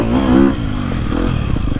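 A KTM 250SXF dirt bike engine revs loud and close, its buzzing pitch climbing and then settling into a rough, crackling drone while the bike is ridden.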